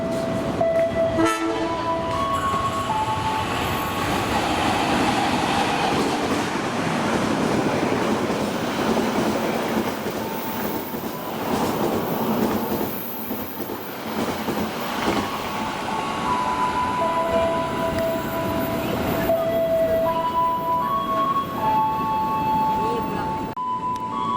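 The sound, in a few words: passenger train Dharma Wangsa 166 passing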